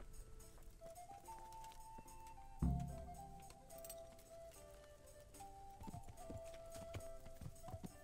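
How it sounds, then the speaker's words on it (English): Horse hooves clip-clop at a steady riding pace in the medieval video game Kingdom Come: Deliverance, with faint jingling tack and a brief thump near the start, quiet and even under soft ambient game sound. "voy a montar en el caballo y haremos un viaje rápido"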